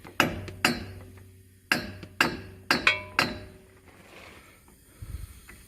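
A hammer strikes metal on a Jeep Sahara Unlimited: about eight sharp, ringing blows close by, spaced irregularly with short pauses, followed by a few seconds of quiet shuffling.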